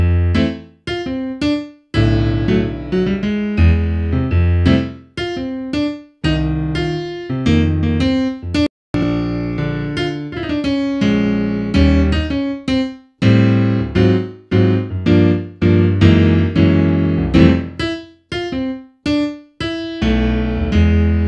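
A solo jazz piano plays a lilting melody with chords in a loose, swinging rhythm, clear and close, with brief pauses between phrases and no voices.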